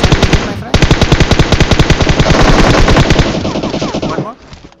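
Rapid automatic gunfire in the PUBG Mobile game on the Miramar map, loud and close, a dense rattling burst with a brief gap near the start, then a long sustained stream that tapers off.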